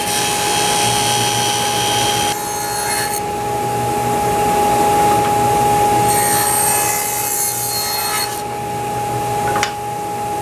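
A table saw cuts teak for the top of a fiberglass anchor box, its motor holding a steady whine under a continuous rough cutting rasp that shifts in intensity as the wood feeds through. No one speaks.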